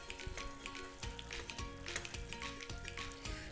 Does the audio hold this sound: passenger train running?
no